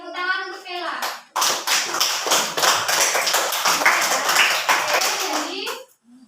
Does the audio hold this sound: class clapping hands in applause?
yes